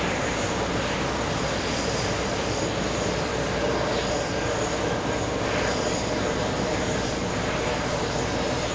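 A JetBlue or Alaska airliner touches down on runway 4 Left at JFK Airport, a continuous loud jet rush and rumble with no break.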